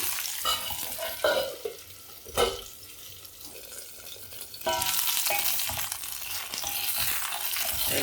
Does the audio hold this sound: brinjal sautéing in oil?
yes